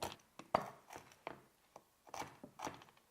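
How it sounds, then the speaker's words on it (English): A knife roughly chops almonds on a board for a harissa and mushroom pastry topping, giving about eight sharp, uneven thuds, close and fairly quiet, with no voices. "I decided to chop some almonds to put them on top"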